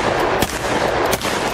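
Several sharp gunshots crack out over a loud, noisy background, spaced apart with a couple of distinct bangs standing out.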